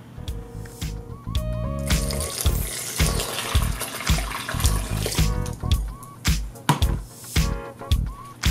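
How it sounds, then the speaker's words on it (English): Hot water is poured into a cornmeal, flour and baking powder mix, with a close, loud gurgling pour in uneven surges and bursts over most of the stretch. "Now pour in some hot water."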